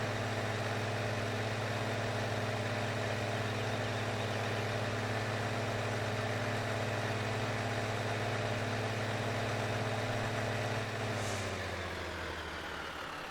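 A Kenworth truck pulling a fertilizer trailer on a farm runs with a steady, loud diesel drone and low harmonic hum that holds constant, then drops in pitch and fades slightly near the end as it slows.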